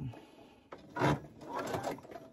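A sewing machine stitching a hooded towel, sewing a short back stitch: a quiet start, then bursts of close mechanical whirring and rattling with brief pauses between runs, no talk.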